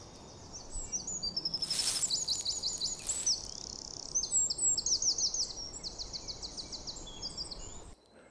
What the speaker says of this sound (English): Okay, well, the bird song.